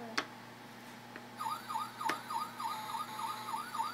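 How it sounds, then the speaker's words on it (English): Electronic fire truck siren from a toy sound puzzle, a repeating wailing yelp in a steady fast rhythm, thin and tinny, starting after a couple of clicks and playing alone at moderate volume. "Fire truck."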